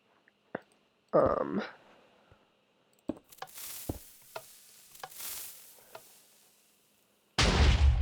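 A sharp cannon shot and several scattered booms and pops sound in a video game, ending in a loud, sustained blast of noise.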